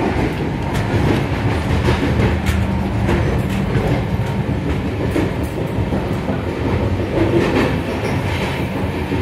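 The Pragati Express rolls from Mumbai toward Lonavala with a continuous loud rumble and rhythmic clatter of wheels on the rails, heard from inside the coach.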